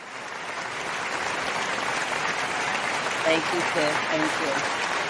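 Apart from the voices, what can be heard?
applause sound effect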